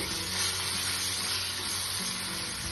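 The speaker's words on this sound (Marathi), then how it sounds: "वांग्याचा परत टाकून घेतो. छान परतून घ्यायचं." Mashed eggplant for Khandeshi bharit being sautéed in a hot pan, a dense, continuous sizzle that holds steady and close throughout with no breaks and no voices.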